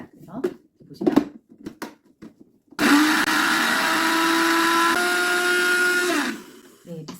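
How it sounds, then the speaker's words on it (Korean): A kitchen blender grinding dry oatmeal into powder: a loud, steady high-pitched whirring motor runs for about three and a half seconds after a few brief thumps and clicks, with the pitch shifting slightly midway before it stops. "믹서기에 갈고 나면요, 이렇게 가루가 되거든요."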